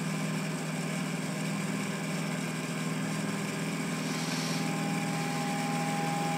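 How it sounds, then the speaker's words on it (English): Magnetic motor running under load, a steady close whirring hum with a faint high tone that rises slightly in pitch toward the end. "we'll turn on the load, watch the RPMs. RPMs will immediately start going up."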